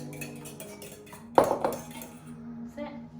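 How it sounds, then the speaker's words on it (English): Christmas cake mixture beaten lightly with a fork: a sharp metallic clatter of fork against bowl, followed by quieter scraping and clinks, mixed with a low steady hum. "Beat lightly with a fork, then add a little at a time."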